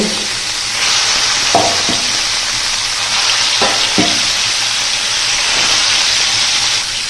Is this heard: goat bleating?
no